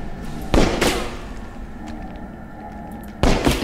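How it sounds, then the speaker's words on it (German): Pistol shots in the video game Overclocked, fired at a wall: two loud, sharp cracks about a second and a half apart near the start, a third at the end, with a quieter tail between. "aber schießen wir auf die Wand."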